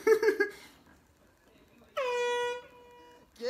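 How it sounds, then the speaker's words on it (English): An air horn blasts once as part of a prank, a loud sustained tone lasting about a second and a half, preceded by brief talk and followed by another short horn burst. "Man, that'd be annoying if he keep blowing air horn on me."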